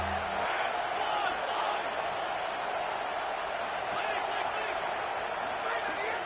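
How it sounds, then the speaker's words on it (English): A football stadium crowd at Texas A&M versus LSU roars and cheers nonstop, a dense, distant-sounding wash of voices and whoops that never lets up. "This crowd bringing the energy and noise early."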